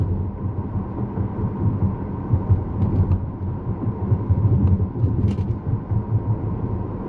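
Steady low road rumble inside a Lexus UX200 F-Sport on a rocky road, a dense, continuous droning rumble with faint rattles and knocks from the cabin, heard alone without any talk.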